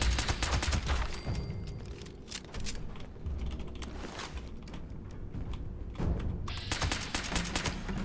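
Pistol fire in the video game Fallout 76, a run of rapid shots layered over busy game sound effects and ambience, loud and continuous throughout.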